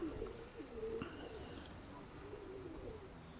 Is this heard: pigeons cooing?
yes